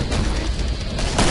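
Gunfire from the Killing Floor video game, a dense, loud burst of rapid overlapping shots with booming low end that carries across the full moment, swelling slightly at the end.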